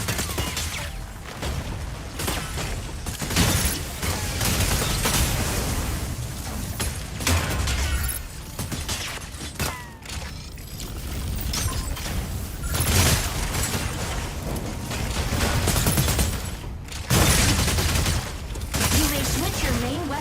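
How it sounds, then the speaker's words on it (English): An energy autocannon fires in the mech video game Mecha Break, dense rapid bursts with booming impacts and mechanical clatter, loud and continuous, with a voice speaking over parts of it. "Attack with energy autocannon."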